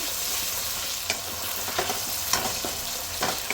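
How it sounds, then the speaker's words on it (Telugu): Onions sizzle in a hot pan, a continuous crackling fry broken by several sharp scraping strokes as they are stirred, close and moderately loud with no talking. "ఆనియన్స్ అయితే మంచిగా మగ్గుతున్నాయి"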